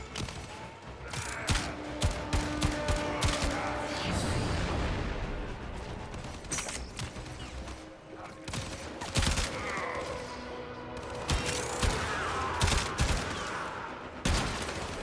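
A semi-automatic weapon fires in Warframe, delivering rapid, punchy gunshots in uneven bursts across the whole stretch, with loud cracks standing out over a busy layer of game effects and no talking.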